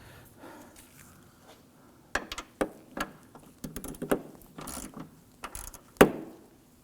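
A ratchet tightening a hood hinge bolt on a 2015-2020 Ford F-150, giving a series of close, crisp clicking bursts with short pauses between strokes and one sharper final click.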